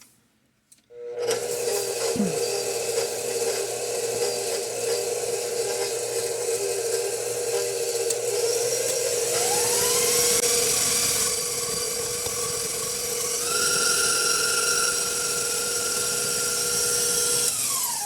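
An electric mixer creams snickerdoodle cookie dough, a loud, steady motor whine that starts abruptly and runs continuously, its pitch rising partway through as the speed is turned up, close by and without talking.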